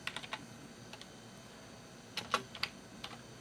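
Fingers typing on a computer keyboard, with scattered bursts of sharp, close key clicks separated by short pauses, quiet and without speech.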